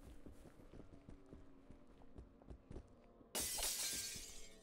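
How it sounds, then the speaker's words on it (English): Glass shatters in a loud, bright crash near the end of a zombie island video game sequence, following a stretch of quieter rhythmic in-game sounds. "Breaking glass, because I can."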